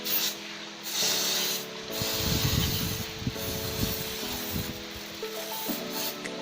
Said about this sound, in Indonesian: Nah, ini nanti disemprotin.